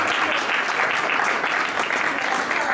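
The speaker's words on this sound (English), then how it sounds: "one more round of applause for our universal cash deposit" A full room applauding at a business school innovation contest, dense continuous clapping that stays loud and even throughout, with no break.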